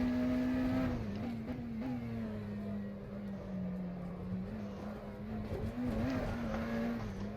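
A McLaren Senna GTR hypercar at Sebring in rFactor 2, its engine holding a steady droning note with slight pitch wobbles as throttle is fed in, fairly quiet and alone without talk.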